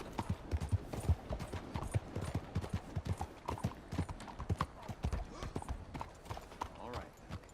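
Horse hooves clip-clop steadily at a walking pace in Red Dead Redemption 2, close and distinct, with game dialogue and ambient sound around them.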